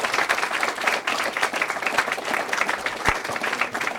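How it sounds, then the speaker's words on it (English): A live audience applauds a jazz singer at an oral history event in Harlem, a dense, steady wash of many hands clapping with no breaks throughout. "Please give her a big round of applause."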